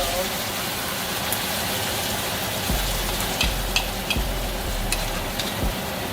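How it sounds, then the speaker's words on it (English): A honey lemon glaze sizzles steadily in a hot pan with salmon, with a loud continuous fry and a few low thumps and clatters from stirring. "Now this is where we add in our honey lemon glaze."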